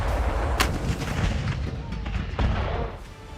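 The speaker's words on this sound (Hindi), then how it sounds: "या अब तोप से बारूदी गोले दागना।" Artillery guns fire explosive shells in a border standoff, with a sharp loud blast early on followed by further booming shots and rumbling reverberation throughout.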